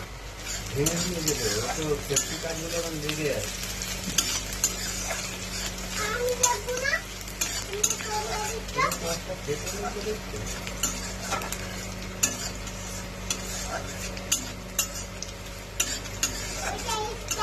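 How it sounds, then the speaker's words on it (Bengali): Onion and garlic fry in oil while being stirred, a steady broadband sizzle with scraping stir strokes throughout, as a voice and other talk come and go over it in a home kitchen. "পেঁয়াজটা ভাজা হয়ে গেছে"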